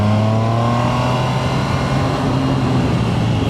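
Triumph Tiger Sport 800 motorcycle engine pulling steadily under acceleration, a loud, smooth, rising drone with wind rush and no talking.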